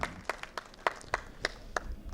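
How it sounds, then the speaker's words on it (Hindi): Scattered, sparse hand claps from an audience at a Gurjar Mahasabha conference in Jaipur: distinct individual claps a fraction of a second apart, thin and fairly quiet, with no voices over them. "एक बार उनके लिए जोरदार ताली बजाइए"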